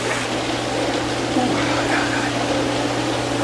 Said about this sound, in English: The water was way too hot the first time, so I'm adding some colder water.